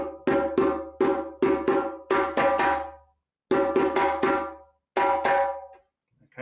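Djembe-style hand drum playing the Saraya Kassa call: two groups of sharp struck hits, each a quick run of tones and slaps, a short pause, then two more bursts, close and loud with no talk.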